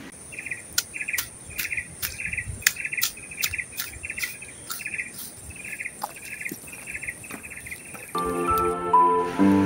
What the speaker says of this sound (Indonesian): ditemenin suara burung